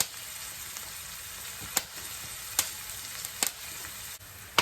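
Vegetables roast directly on an open stovetop gas flame, giving a continuous soft hiss and crackle with occasional sharp pops and snaps, close and fairly quiet, with no voices.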